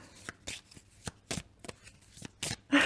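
Tarot cards are laid out and handled on a table: a run of soft, close, papery flicks and slaps, about a dozen in under three seconds, with no voices.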